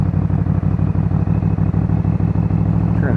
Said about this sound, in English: So I like to do my U-turns in first gear in this bike